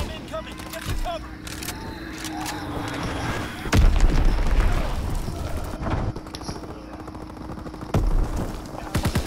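Heavy bomb explosions and rattling gunfire in a military shooter game, with booming blasts and bursts of automatic fire over a continuous battle din while voices call out in the mix.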